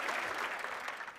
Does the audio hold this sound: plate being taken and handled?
no